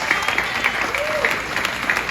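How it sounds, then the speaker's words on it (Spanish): A crowd applauds with steady, dense clapping throughout, and a voice is briefly audible beneath the noise. "también un aplauso a Tatiana Cloutier"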